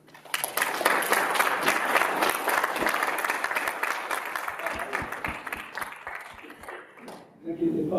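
A crowd at an award ceremony for entrepreneurship prizes claps steadily and moderately near. Individual sharp claps become distinct as the applause thins out toward the end, and faint talk follows.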